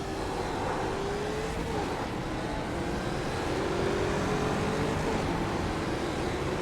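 A race car in an American Muscle Series race at Watkins Glen roars with a steady, loud, continuous engine drone and a slowly shifting tone, heard without talk throughout.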